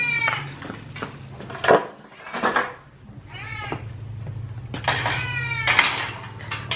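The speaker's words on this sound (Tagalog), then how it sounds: "Tapos ayun yung isang pusa namin." A house cat meows repeatedly at home near where dog food is left out, giving several drawn-out cries over a few seconds. Light clinks of dishes and a cupboard sound between the meows.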